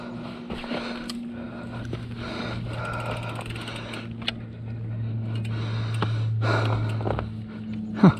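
A mountain bike rattles and ticks over rough ground while riding a trail on Fromme Mountain. The rattling is continuous and fairly close, with an engine-like hum and occasional knocks, and no talking.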